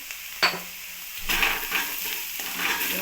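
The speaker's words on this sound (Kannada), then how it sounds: "ಚೆನ್ನಾಗಿ ಮಿಕ್ಸ್ ಮಾಡೋಣ." Masala rice being stirred in a pan: a sharp utensil knock, then steady scraping and frying sizzle close up, with no talking.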